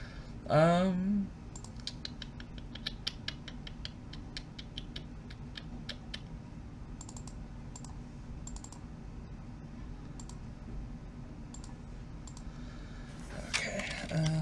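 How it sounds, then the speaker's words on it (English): Rapid typing on a computer keyboard, a steady stream of light key clicks throughout, with a brief voice sound at the start and a short burst of louder clatter near the end. "This is why I'm typing it."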